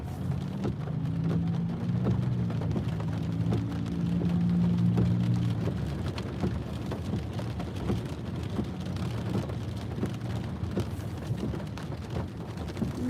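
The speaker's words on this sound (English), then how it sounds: "I hate driving in the rain." Steady rain drums on a car while it crawls through traffic, a constant wash of patter with low road and engine rumble underneath and a sustained low hum in the first half.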